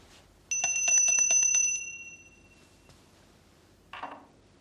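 Bright bell rung on stage during a play's Macbeth murder scene, a quick cluster of ringing strikes that decays and fades, followed by a short faint rustle.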